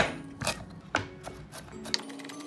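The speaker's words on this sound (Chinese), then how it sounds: "20克的姜切碎" Knife chopping 20 grams of ginger on a board while preparing a Chinese New Year pork belly with preserved vegetables; a few sharp, irregular chops and taps sound close and moderately loud, with no voices.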